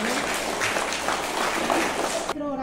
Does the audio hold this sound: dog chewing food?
no